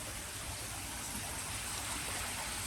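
A small waterfall spills into a garden koi pond with a faint, even, steady trickling wash and no voices.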